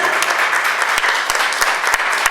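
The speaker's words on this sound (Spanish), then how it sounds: "tenemos que recibir con un gran aplauso a nuestra querida amiga" An indoor audience claps steadily to welcome a guest at a hosted event, a dense and continuous round of applause heard close and loud with a few sharp individual claps standing out.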